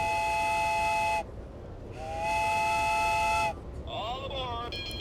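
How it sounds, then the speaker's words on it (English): A train whistle sounds in a video game, giving two long, bright, multi-toned steam-whistle blasts and then a short wavering hoot over a steady background hum. "he's got a cool train whistle"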